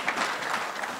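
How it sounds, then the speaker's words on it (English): Brief, fairly quiet burst of a church congregation clapping their hands in praise of Jesus, a steady wash of many hands lasting about a second. "If you are attentive, you'll give a hand clap to Jesus."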